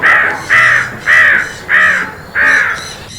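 A crow caws five times in a steady rhythm, loud and close, each call harsh and drawn out.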